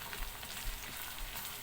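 Shrimp paste (alamang) sizzling with onion in a hot pan, a steady close crackle and hiss that runs unbroken with small pops.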